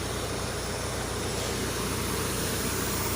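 A DBN-2.1 disc harrow behind a tractor works wet soil about 15 cm deep, and the tractor engine drones steadily and loudly under load with no pauses or voices.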